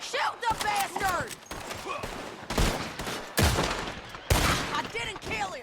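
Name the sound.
gunshots in Red Dead Redemption 2 video game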